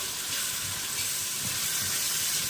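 Chopped tomatoes sauté in a frying pan with a soft, steady sizzle and faint stirring scrapes, close and continuous for a couple of seconds.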